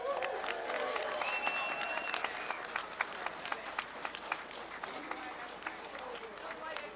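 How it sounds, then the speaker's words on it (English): A crowd at a farmers' protest in central London applauds the police, a broad sustained patter of clapping from many people outdoors, fairly distant and even, continuing for several seconds. "can we give the police a round of applause?"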